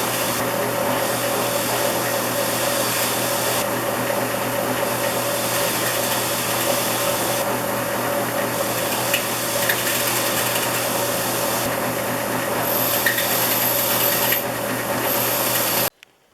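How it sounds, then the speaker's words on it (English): Small parts of a Stanley No. 20 circular plane polished on a motor-driven wire wheel give a steady, continuous whir with a faint brushing hiss, running unbroken for about sixteen seconds before cutting off. "I'll finish the small parts on my wire wheel."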